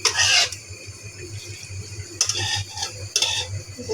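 Cooked noodles being drained and rinsed with cold water in a home kitchen: three short bursts of splashing, running water over a steady low hum, with no talking.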